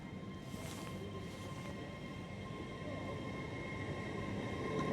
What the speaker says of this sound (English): Getting ready to depart now, your 1346 Hull trains Paragon service from London King's Cross to Hull